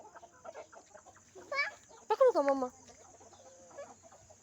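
A rooster lets out a few loud, close, harmonic clucks in two short bursts, between quieter background noise, while a voice speaks nearby.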